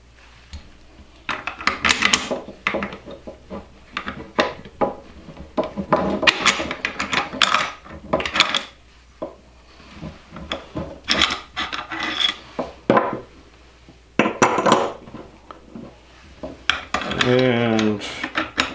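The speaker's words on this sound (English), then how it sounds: "Now we got our 2-piece bolt." Metal parts of an Albanian SKS rifle's two-piece bolt clack, scrape and rasp against each other in repeated close, loud bursts as the bolt is handled and fitted.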